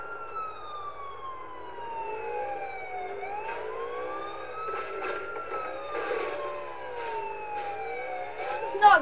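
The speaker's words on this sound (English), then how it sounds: "I've got a police car" A police car siren in GTA wails steadily, its pitch rising and falling in smooth sweeps, with a few faint knocks and a brief louder thump at the end.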